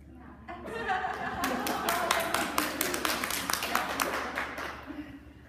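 A group of people clap during a session, starting sparse and building into a burst of sharp, irregular hand claps that then taper off, with murmured voices and chatter underneath.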